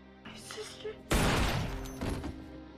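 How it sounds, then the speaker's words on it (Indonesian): A sudden loud burst of gunfire erupts after a moment of quieter sound, with a dense crack and lingering rumble amid film-like audio. "saat itulah Emily menembaknya juga"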